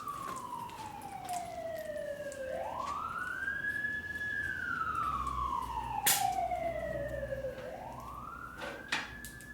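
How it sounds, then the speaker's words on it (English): An ambulance siren wails, sweeping up and down in long slow cycles as it passes, loud and continuous, with faint clatter in the background. "The ambulance always goes by when it's starting to work."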